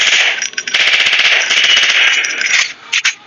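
Sniper rifle fire in a video game, loud, close, sharp gunshot bursts with metallic ringing clangs, dense and sustained before trailing off into a few final shots.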